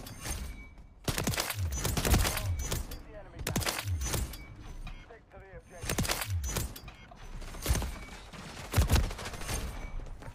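Marksman rifle shots ring out in the video game Modern Warfare III, sharp repeated cracks spaced a second or two apart with mechanical clatter between them, while a voice talks over much of the action.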